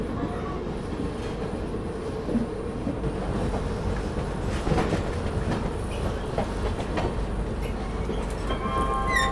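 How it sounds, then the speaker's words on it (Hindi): The 12556 Gorakhdham Superfast Express arrives at Basti railway station, with a steady rolling rumble and rhythmic wheel clatter over the rails, heard close from on board, and faint squeals near the end. "ट्रेन अपनी अराइव कर रही है बस्ती रेलवे स्टेशन पे।"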